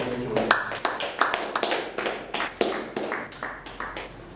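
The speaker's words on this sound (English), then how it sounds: "please, a round of applause." Clapping at a breakfast business meeting, close and crisp, a modest group of hands beating in a quick, uneven rhythm for a few seconds, with light voices mixed in.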